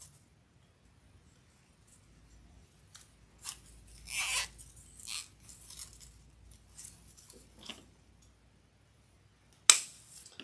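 A zip tie ratchets tight around a flower stem on a grapevine honeycomb door-hanger wreath: a few faint, close zipping rasps and small clicks over near silence, ending with one sharp snap.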